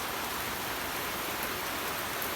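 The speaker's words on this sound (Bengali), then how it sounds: "ব্লগ আরম্ভ করলাম আর বৃষ্টি আরম্ভ হয়েছে" Steady rain pours down throughout, a dense, even hiss of falling water with no let-up and no voices.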